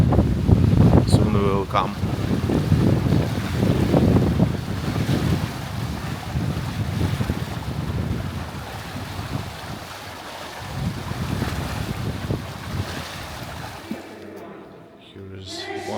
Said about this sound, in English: Now it's windy here, strong wind.